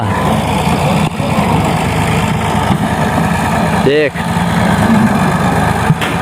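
A tractor engine idles steadily in the background with a low rumbling chug and one brief rev swell, while someone talks loudly over it.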